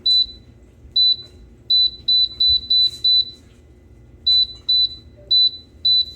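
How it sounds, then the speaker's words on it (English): A food steamer and egg cooker that has run without water added gives short, loud, high electronic beeps, near and in uneven bursts of several in a row, with brief pauses between groups and no talking. "it started beeping at me, several beeps loud in a row"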